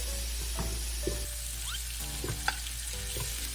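Butter and garlic sizzle steadily in a pan while abalone is pan-fried with butter, a constant frying hiss with a few soft clinks and stirring taps on top, close by and fairly quiet.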